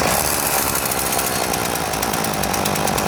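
A Homelite two-stroke chainsaw runs at a loud, steady buzzing rev, close to the microphone and continuous for the whole stretch, with no speech over it.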